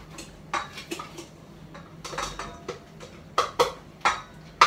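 Batter for Finnish pannukakku oven pancake stirred in a bowl, giving a string of light clinking and scraping taps of utensil against bowl, irregular and close, with quiet kitchen background.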